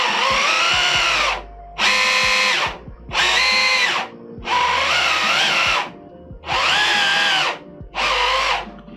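A 3D-printed RC truck kit's wheel spins under electric motor power in six whirring bursts of about a second each, loud and close, with a rising and falling whine and short gaps of quiet between runs.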